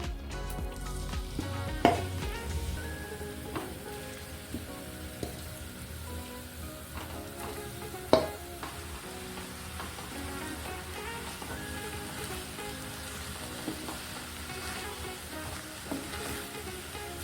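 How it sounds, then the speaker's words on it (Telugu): Grated pumpkin frying in two teaspoons of ghee in a pan, with a continuous gentle sizzle broken by scattered scraping stirs and a couple of louder knocks. "ఇది బాగా కలుపుకుంటూ ఈ గుమ్మడికాయలో ఉన్న నీరంతా ఇంకిపోయేంత వరకు వేపుకోవాలి"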